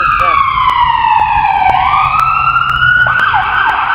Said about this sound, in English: There's all the ambulances rolling by the park.